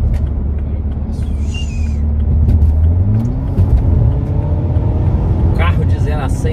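A car engine rumbles loud and steady while overtaking on the road, with a low drone rising slightly as the car accelerates; people talk over it.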